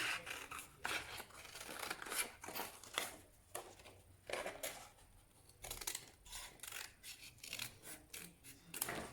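Scissors snip through paper in quick, close, repeated cuts while rabbit ears are shaped for a craft project, a steady rhythm of crisp snipping and rustling with no voices.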